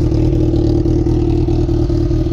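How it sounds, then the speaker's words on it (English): A Suzuki GSX-R1000 motorcycle fitted with an aftermarket Laser exhaust runs close by. It gives a loud, steady, throaty engine drone with a slight rhythmic pulse and no talk. "So he installed a laser exhaust. So this is laser exhaust."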